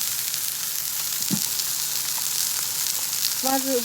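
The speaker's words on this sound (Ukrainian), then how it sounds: "Обсмажуємо його з кожного боку." Steady, loud sizzling of meat frying in a hot pan, a constant crackling hiss throughout with a few faint clinks near the end.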